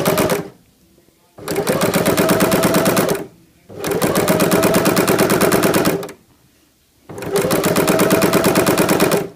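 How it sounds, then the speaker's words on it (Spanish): A sewing machine fitted with a gathering presser foot stitches in three loud, rapid mechanical bursts of a few seconds each, separated by short pauses, close and clear with no talk. "ya podemos empezar a coser."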